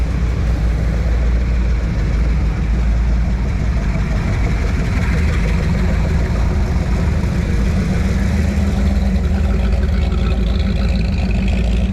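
A car engine rumbles low and steady throughout while someone drives it, a continuous close drone with no break and no talking.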